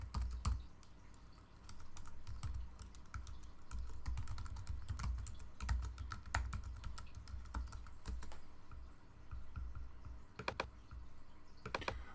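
Rapid typing on a computer keyboard while signing into an online account, with dense, continuous key clatter at close range, a few sharper clicks, and no voices.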